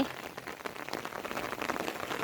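Rain falls steadily, a dense patter of drops on surfaces, loud and even throughout with no voices.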